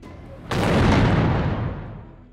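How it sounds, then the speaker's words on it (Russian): The noon cannon fires from the Naryshkin Bastion of the Peter and Paul Fortress in Saint Petersburg, a single loud, deep boom that breaks in sharply and rolls away over about two seconds. "раздается пушечный выстрел с Нарышкина бастиона"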